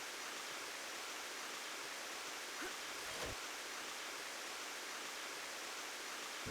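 Steady waterfall rushing in the Nintendo DS game Tomb Raider: Underworld, a constant faint hiss of falling water with no breaks.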